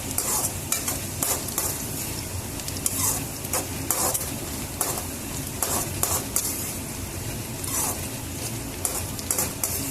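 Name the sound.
onions frying in a pan while being stirred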